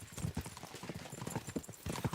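Horses gallop in Kingdom Come Deliverance II, their hooves striking the ground in a quick, steady clip-clop that sounds close and continuous across the short moment.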